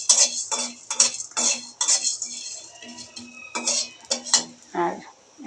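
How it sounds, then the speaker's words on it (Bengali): Whole spices dry roasting in a pan for a chicken stew masala, with a utensil scraping and clinking against the metal in quick, repeated bursts, close and fairly loud, with no voices. "একটু ভাজি, একটু ভাজা ভাজা হলে একটা স্মেল আসবে, তখন উঠাতে হবে"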